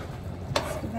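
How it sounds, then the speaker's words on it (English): Cheese being stirred into a pan for a creamy Cajun shrimp and sausage dish, heard as one brief, close scrape over a low steady background. "Give that a stir."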